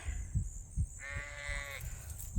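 Ewes bleat on a sheep farm, one clear drawn-out bleat in the middle over faint low thumps and quiet outdoor background.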